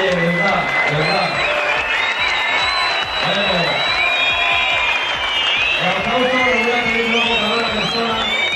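An audience at a 1998 live show claps and cheers with scattered whoops, a dense, continuous crowd noise that runs under voices calling out over it.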